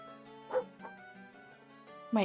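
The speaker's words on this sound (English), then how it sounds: "I wish my dog would be quiet" A dog kept outside yips and barks in short, scattered bursts, fairly distant and under a steady tonal background hum, with a louder bark at the end.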